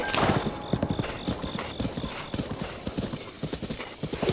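A horse gallops in Zelda: Breath of the Wild with quick rhythmic clip-clop hoofbeats close up, over soft game music, with someone talking at times.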